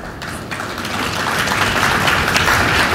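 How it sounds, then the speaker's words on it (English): Audience applause at the 2017 US Open draw ceremony at the Seaport District, a steady wash of clapping that builds slightly over a few seconds, heard alone. "So applaud the computer for producing the draw"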